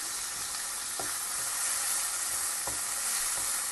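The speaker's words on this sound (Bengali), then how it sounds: "এখন আমি পেঁয়াজ দিলাইমো" Onions frying with salt in a pan for chicken liver curry, a steady close hiss of sizzling with a few soft stirring knocks spaced apart, no voices.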